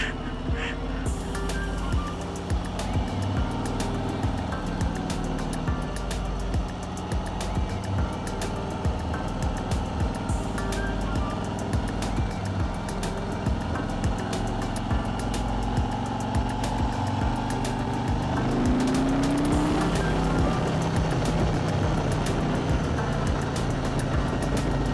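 A 2021 Harley-Davidson Road Glide Standard motorcycle rumbles on a test ride with a steady, loud, deep engine note that swells as the throttle opens partway through.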